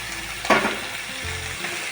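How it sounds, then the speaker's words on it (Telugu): Ivy gourd pieces drop into hot tempering oil and fry with a loud, close crackling sizzle. A sharp burst comes early, then the frying settles into a steady hiss. "పోపు కాగినాక దొండకాయలు వేసేసుకున్నాం దొండకాయ ముక్కలు"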